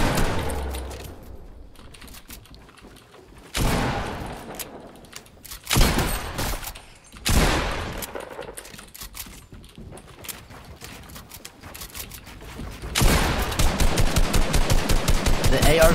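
Bursts of rapid automatic assault rifle gunfire in Fortnite Battle Royale, loud strikes separated by quieter gaps, ending in a sustained stretch of fast shots.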